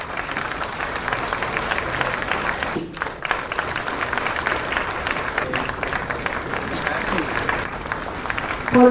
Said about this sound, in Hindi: तालियां लगातार हो, जोश से भरेंगी